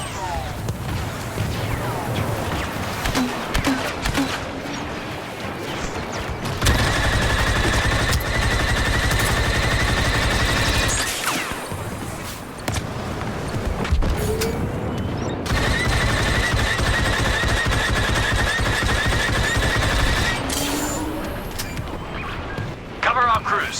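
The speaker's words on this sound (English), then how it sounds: "Laying down covering fire." Soldiers lay down covering fire in Star Wars Battlefront II on Geonosis: sustained bursts of heavy automatic blaster gunfire with explosions and mechanical clatter, loud and continuous over several seconds, with radio chatter and voices mixed in.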